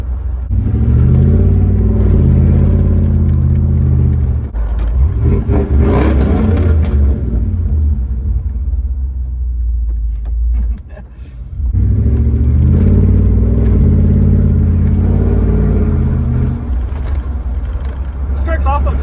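A 6,000-pound truck drives along with a loud, steady low engine rumble that swells as it accelerates, eases off briefly in the middle, then builds again, all heard from inside the cab.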